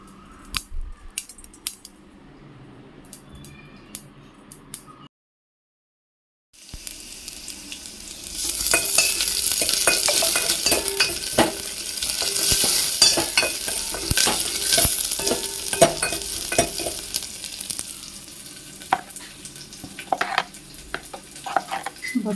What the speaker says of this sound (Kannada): ರುಬ್ಬಿಟ್ಟು ಒಗ್ಗರಣೆ ಹಾಕೋಣ ಬಸ್ಸಾರಿಗೆ